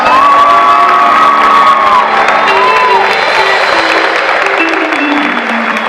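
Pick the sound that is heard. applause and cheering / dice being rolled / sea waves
applause and cheering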